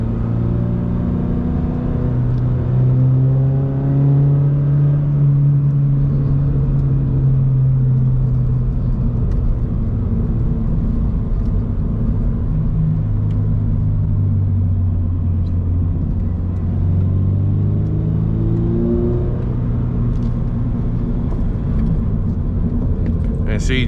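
A Toyota GR86 fitted with an MBRP exhaust drives along with a continuous low exhaust drone that rises and falls as it accelerates and shifts, loud and close from inside the cabin.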